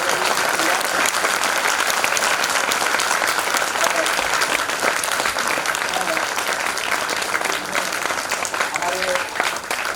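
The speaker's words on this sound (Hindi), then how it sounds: "इतनी सख्त तालियां बजाइए।" Dense, loud audience applause at a stage event honoring Kabir, steady throughout with occasional voices and crowd murmur mixed in.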